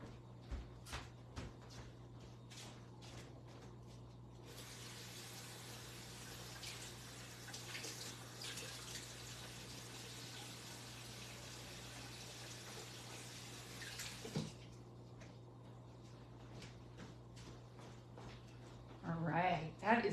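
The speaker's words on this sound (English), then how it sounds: "I'm going to go stick it in the sink." Tap water runs steadily into a sink for about ten seconds amid faint background noise, with a few soft clicks before it starts and after it stops.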